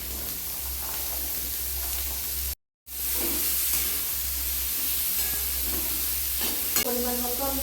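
Long-cut carrots frying in a kadai, a steady close sizzle and hiss with brief stirring sounds, cut by a short silent gap before the frying resumes.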